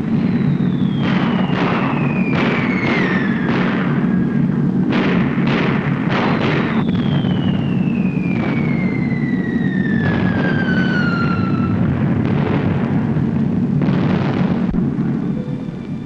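B-17 Flying Fortress bombs bursting in a dense, loud, continuous barrage of booms and rumbling blasts, with falling whistles sweeping down over the top.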